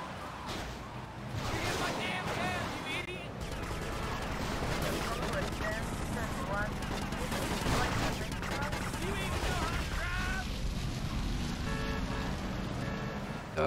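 Explosions and gunfire in GTA Vice City Definitive Edition, a dense, continuous barrage of bangs and blasts lasting throughout, loud and close, with a voice talking over parts of it.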